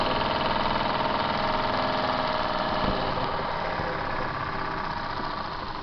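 A Mamod model steam limousine runs steadily, giving a continuous close mechanical churn and hiss with a faint repetitive chug, holding at an even level throughout with no talking.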